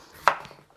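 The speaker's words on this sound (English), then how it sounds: "I'm going to peel this and also cut it in small cubes" A single crisp knife chop through a vegetable on a cutting board while dicing it into small cubes, one short close knock with a brief tail.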